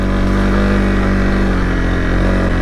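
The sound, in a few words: Honda CRF dual sport motorcycle engine riding out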